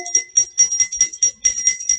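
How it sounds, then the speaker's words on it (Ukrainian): Small bells ringing in quick, rhythmic bursts, a bright metallic jingle repeated about a dozen times in a steady pattern, close and clear with nothing else audible. "Це малесенькі дзвіночки."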